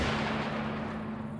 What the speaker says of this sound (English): Sadly, they know we're coming now that you've decided to fire an RPG at them.